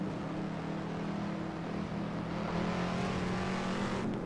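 A Cobra race car in Assetto Corsa drones with a steady engine hum that rises slightly as it accelerates toward the end, moderately loud and without talking.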